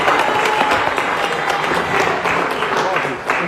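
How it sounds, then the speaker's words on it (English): Dense, steady audience applause at a live Michigan football National Signing Day event honouring the recruits, continuous clapping throughout with crowd noise mixed in. "So let's give a round of applause for everybody."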